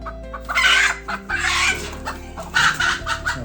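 A hen that has just hatched chicks clucks in a series of loud, close calls, three bursts in quick succession with short pauses between, and no talking.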